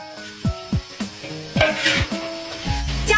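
Oxtail pieces dropped into a hot pot already holding bay leaves, chili, cooking wine and soy sauce: a few separate thuds, then a close, rising sizzle with clattering.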